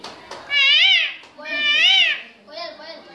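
A voice imitates a peacock call in three rising-and-falling wailing cries, loud and close, with short pauses between them.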